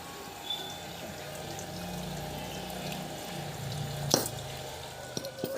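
Water is drained off a pot of cooked rice in a steady, fairly quiet pour lasting several seconds, with a brief clatter of the pot near the end.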